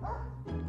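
A trapped dog gives a brief yelp or bark near the microphone, one short burst that shows up clearly for under a second.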